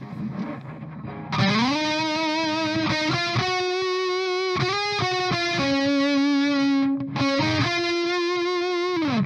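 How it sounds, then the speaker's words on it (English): A heavily distorted electric guitar through a Randall Diavlo amp head's distortion channel sustains loud, buzzing notes, holding long tones with brief breaks between phrases. "On a distortion channel of some kind, and I'm just going through the amp distortion of my Randall Diavlo head"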